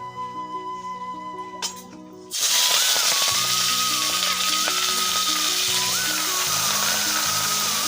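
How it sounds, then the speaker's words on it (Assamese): Fish frying in hot oil with panch phoron: after a quiet start, a loud, steady sizzle suddenly bursts in and continues, with faint background music underneath. "এইফালে তেল গৰম হৈছে তো পাঁচফোৰণ দিছোঁ আৰু এইখিনি বহাই দিম আৰু এইফালে মাছ ভাজি দিম"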